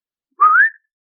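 A person imitates a whistle once heard in the woods at night beside a tent: one short, clear whistle that slides upward in pitch, loud and alone.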